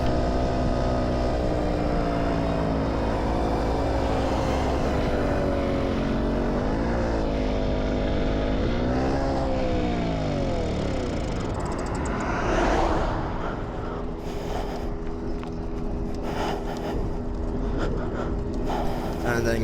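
A run-down moped's small engine drones steadily while riding, its pitch rising and falling with throttle changes, with wind rush and road noise on top and a voice talking over it.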